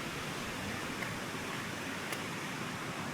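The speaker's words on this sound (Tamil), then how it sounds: "இங்கேயே ஒரு ஃபால் சத்தம் கேட்குது." Dense, unbroken roar of a waterfall in the Blue Mountains, Australia, broadband and even, steady throughout at moderate loudness with no other distinct sounds.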